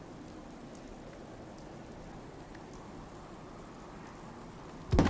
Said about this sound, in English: it's way too dark to work in this rain.